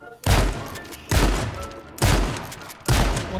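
Gunfire in the survival shooter H1Z1, four loud, close blasts of rapid shots coming in an even rhythm, each lasting under a second, with no talking over them.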